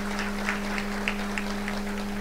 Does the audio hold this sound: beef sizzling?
no